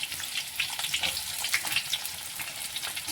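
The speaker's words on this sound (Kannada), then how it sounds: "ಈರುಳ್ಳಿ ನಾವು ಅಷ್ಟು ಹಾಕ್ಕೊಂಡ್ಕೊಳಕ ಸ್ವಲ್ಪ ಫ್ರೈ ಮಾಡ್ಕೊಳ್ಳೋಣ" Onions sizzling in hot oil with curry leaves in a pan while cooking a carrot gravy, a steady crackling hiss with sharper pops scattered through, close and alone without talk.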